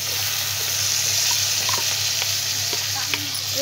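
Chopped tomatoes frying in a pan with potatoes in a village kitchen, a loud continuous sizzle close up, with scattered scraping and stirring clicks throughout.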